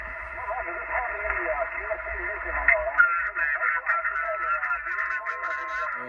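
An amateur radio receiver carries narrowband, filtered voices and shifting tones from distant DX stations, continuous and moderately faint over a low hum.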